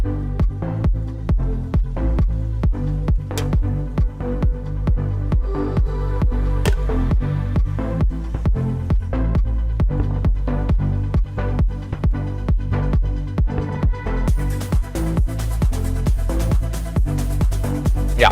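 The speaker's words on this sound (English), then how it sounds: "This is what I've made a few months ago. Are you into house music, Nas?" A steady electronic house loop with a thumping four-on-the-floor kick, repeating synth chords and crisp hi-hats, gaining brighter top end near the end.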